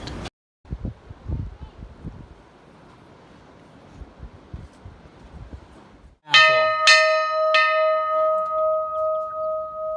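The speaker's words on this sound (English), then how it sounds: "This was worth it just to ring that bell." After a few seconds of wind and rustling, a bell is struck several times close by, each ring leaving a long, bright, sustained tone that slowly fades.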